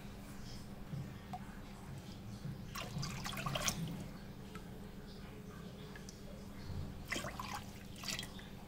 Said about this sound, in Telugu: 3 గ్లాసెస్ వాటర్ పోసుకోండి.